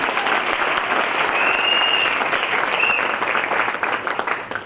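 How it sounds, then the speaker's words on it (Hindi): An audience at a live talk in Mumbai claps loudly in a dense, sustained burst. A couple of brief whistles rise above the applause before it begins to fade. "ताली बजाओ।"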